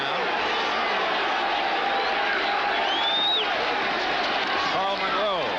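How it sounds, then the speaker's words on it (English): Dense roaring crowd filling a football stadium during a 1983 NFL game between the San Francisco 49ers and New England Patriots, a steady loud wall of cheering and shouting with scattered whoops rising above it. "The crowd ornery right now."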